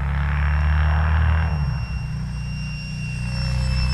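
A Freewing F-105 Thunderchief radio-controlled jet with a 64mm electric ducted fan makes a fast pass during a speed run, a loud, steady high whine with a roaring rush that shifts in pitch as it goes by.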